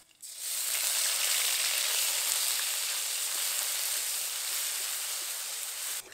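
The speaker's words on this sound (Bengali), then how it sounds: "পেঁয়াজটা ভেজে নিয়েছি," Onion paste frying in hot oil seasoned with nigella seeds and green chillies, a steady close sizzle that holds loud and even throughout with no talk.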